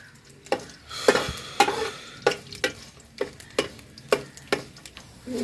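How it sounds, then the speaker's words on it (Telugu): Curry leaves sizzle in hot oil for a village-style moong dal rasam while a spoon knocks and stirs in the pan, a series of sharp clacks over a steady hiss, close and moderately loud. "కరివేపాకు వేసుకుందామండి"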